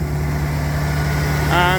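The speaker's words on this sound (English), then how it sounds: "You can hear it has a little bit of that spark plug bang to it." A 1992 Ford OBS truck engine with a spark plug bang runs steadily at idle, a close, loud continuous rumble with a brief voice near the end.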